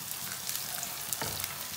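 Onion and chopped capsicum frying in a pan, a faint steady sizzle with a few light clicks from stirring, heard close but quiet.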